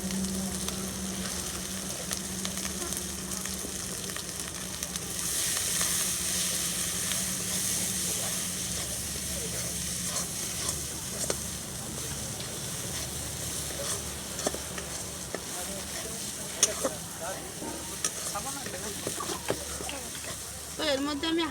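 Coconut paste sizzles and is stirred in a pan for prawn curry, a steady broadband hiss lasting throughout with scattered scraping taps, while a person talks over it.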